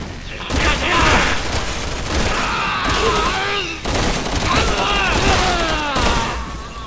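Gunfire in the video game Resident Evil 6 rings out in repeated loud bursts amid explosive booms and chaotic game effects, with a player talking over the action.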